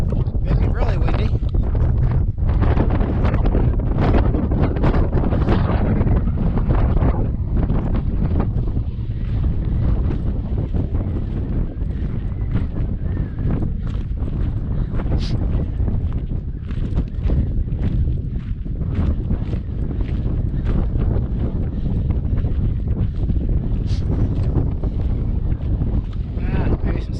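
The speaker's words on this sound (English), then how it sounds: "Sound audio will be bad, it's pretty windy." Strong wind buffets the microphone on a mountain pass while backpacking near Missouri Lakes and Fancy Pass, loud continuous rumbling gusts throughout, with speech partly buried beneath.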